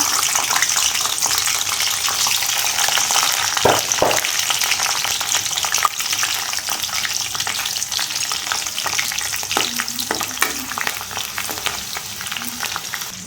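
Green chillies fry in a few tablespoons of hot oil in a pan, giving a loud, continuous sizzle with popping spatters and a few stirring knocks; nobody speaks.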